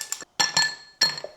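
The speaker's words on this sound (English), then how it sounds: "Then I add some ice cubes" Ice cubes clink and rattle into a glass for iced coffee, three bright clattering bursts with short pauses between, close and clear with no talking.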